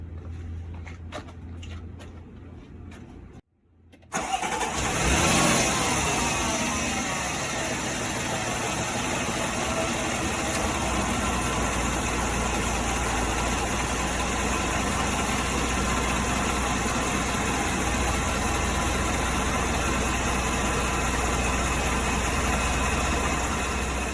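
Land Rover LR4 engine cranking and catching after a brief silence, then settling into a steady, even idle that runs on alone for the rest of the clip, fairly close with a low mechanical hum.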